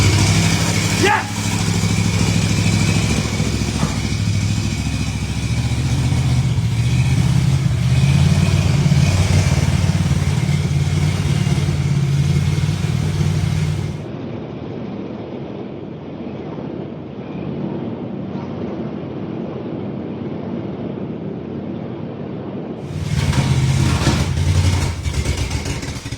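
A 1964 Cadillac Coupe Deville engine, revived after years of sitting, runs with a steady low rumble and rising revs, loud and close, with wind buffeting; the engine drops off briefly midway before roaring back.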